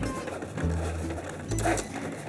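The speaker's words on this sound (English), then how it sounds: "press that to tell the machine we're ready to cut" A Cricut cutting machine working through doormat material gives a steady mechanical whir with motor hums that rise and drop as the carriage moves, fairly quiet and close, with no talking.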